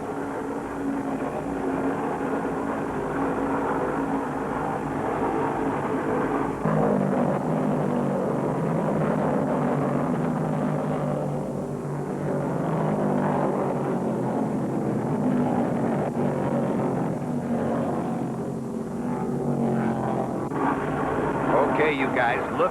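NASCAR stock cars of the 1971 World 600 Winston Cup race roar around the track in a steady, dense engine drone that stays loud throughout, with a commentator talking over it.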